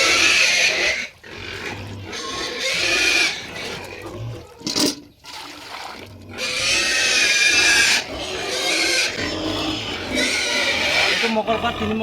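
Pigs on a small farm grunt and squeal loudly and continuously at feeding time while grain feed mixed with water is served, with a voice and splashing mixed in.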